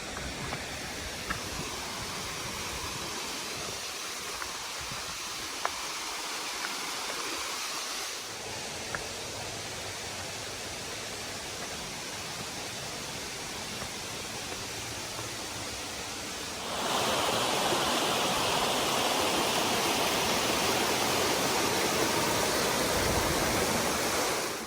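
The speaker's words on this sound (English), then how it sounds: "Looks like the trail is going to go right up beside this waterfall." A waterfall beside an Appalachian Trail hiking path gives off steady broadband rushing, constant and fairly close, with the roar swelling louder in the final stretch and no one speaking.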